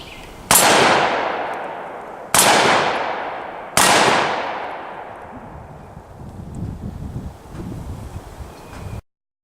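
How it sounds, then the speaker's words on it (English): Three sharp metallic clangs ring out as bullets from an AR-15 and other guns strike an A36 3/8 inch steel plate outdoors. Each impact is loud and decays slowly, with wind noise between hits. "We're gonna pop a couple rounds into it and see what kind of torture it can hold."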